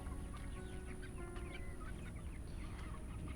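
Pastured poultry on grass cluck steadily in a close, busy chorus, with several overlapping hen calls and occasional sharper squawks over a constant low background rumble.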